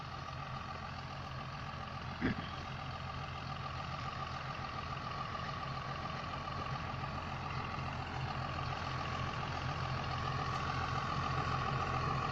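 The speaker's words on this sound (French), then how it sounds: "Alors voici le tracteur, le 6920." John Deere 6920 tractor with a front weight, engine idling in a steady, rumbling drone with a constant low hum, close and unchanging apart from one brief knock.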